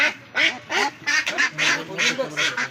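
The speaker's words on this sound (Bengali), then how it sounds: "এগুলো রানার হাঁস ভাইয়া, রানার হাঁস বলে এগুলো" Indian Runner ducks quack in a rapid series of loud, close nasal calls, about eight bursts in under three seconds, with no talk over them.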